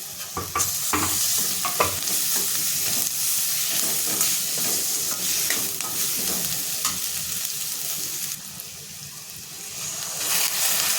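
Tomatoes and coriander frying with goda masala and turmeric in a pan for dal palak, a steady close sizzle and hiss with scraping stirring strokes throughout, briefly softer near the end before rising again.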